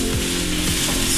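Onions sizzle in a frying pan as they cook toward caramelization, a steady close hiss with faint scraping stir sounds, short and continuous without talk.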